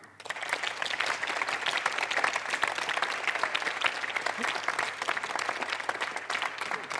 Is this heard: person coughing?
no